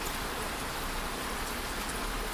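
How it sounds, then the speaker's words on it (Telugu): Steady rain falling outdoors on a street, a dense continuous hiss of drops with no pauses and no voices. "వర్షంలో తడుస్తున్నాం గాయస్."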